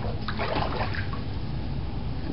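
Floodwater from the 2010 flood sloshes and rushes through a room holding speaker cabinets, a steady close wash of splashing water with no voices.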